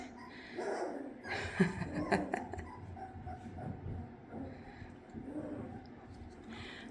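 Soft whimpers and small yips from young puppies over gentle rustling and shuffling, close by and fairly quiet throughout.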